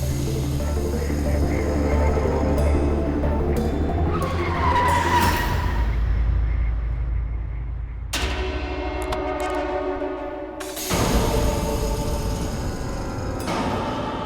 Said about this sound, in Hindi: गाड़ी ठोक दी मेरी